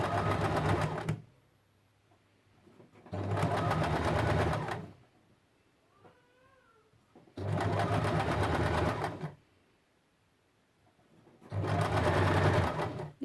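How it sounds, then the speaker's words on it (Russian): A sewing machine stitches the fabric of a removable pillowcase bumper in four loud, steady bursts, each lasting a couple of seconds, with quiet pauses in between. "Так вот аккуратненько пристрачиваем,"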